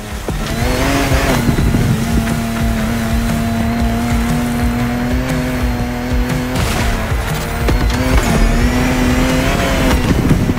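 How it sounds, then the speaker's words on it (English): Peugeot 3008 DKR with a V6 turbo engine in The Crew Motorfest, off-road: a steady loud engine drone holding pitch, with tires squealing and skidding over the top throughout. "How about the Peugeot 3008 DKR? Sturdy V6 turbo"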